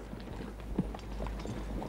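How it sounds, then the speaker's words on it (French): Horse hooves clip-clop at a steady walking pace, moderately close, in a desert adventure drama, with no voices over them. "Jordan, monte à cheval!"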